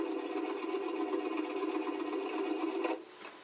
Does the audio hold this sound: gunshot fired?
no